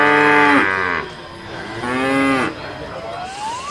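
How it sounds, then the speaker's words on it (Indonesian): A water buffalo moos twice close by, two loud drawn-out harmonic calls followed by a rising tail, and no one speaks. "Wadidaw, ini kerbau"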